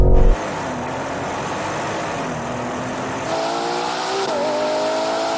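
Ferrari Purosangue and rival SUVs (Lamborghini Urus SE, Porsche Cayenne Turbo, Audi RSQ8 Performance) launching in a drag race, loud sustained engine roar with rising revs and gear changes, building again near the end.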